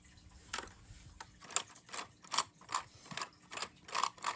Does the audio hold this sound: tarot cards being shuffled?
no